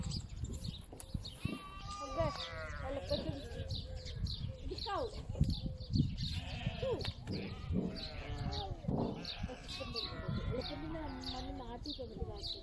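Repeated high, wavering bleats from a young lamb or goat, close by, mixed with people talking and background farm noise.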